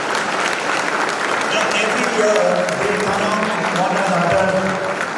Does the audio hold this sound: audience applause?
yes